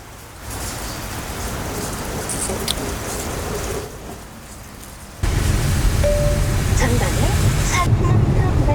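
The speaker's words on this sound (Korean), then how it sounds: "비가 많이 내리고 있습니다" Heavy rain pours steadily near Gimhae Airport, drumming on the surfaces around a BMW 320d Touring; the dense hiss grows louder about halfway through and continues without pause.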